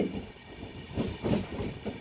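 A train pulls into Mangalore Junction in monsoon weather, a faint rumbling roll with soft rhythmic clatter and swells, heard from a distance without voices.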